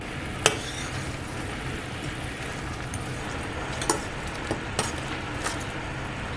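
Jaggery melting in a pan for tamarind pickle, a low steady bubbling hiss with occasional sharp clicks of a spoon against the pan as it is stirred.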